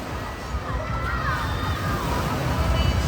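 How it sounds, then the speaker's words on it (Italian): Artificial waves slosh and wash at an indoor beach inside a giant Chinese building, a steady rolling splash with a murmur of voices in the background. "Vedete le onde?"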